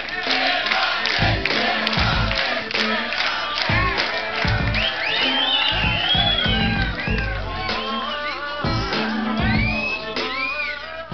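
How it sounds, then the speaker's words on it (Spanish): A live audience at a Spanish-language comedy show in Las Vegas erupts as a guest is called forward, with loud cheering, whoops and shouts layered with clapping, close and boisterous throughout. "un aplauso para Allison"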